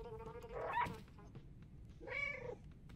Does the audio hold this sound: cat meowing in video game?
yes